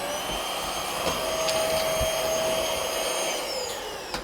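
SVHT 500W cordless vacuum cleaner sucking up debris, a loud steady whine held near the microphone with a few faint clicks and rattles of pickup, running alone without talk.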